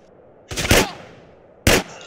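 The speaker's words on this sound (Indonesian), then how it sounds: "Tembak satu-satu dong, jangan semuanya dong." Gunfire in GTA San Andreas: a quick burst of two or three close, loud shots, a pause, then one more sharp shot, with ringing echo tails and no talking.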